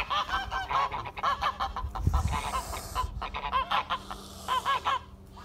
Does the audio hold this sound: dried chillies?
no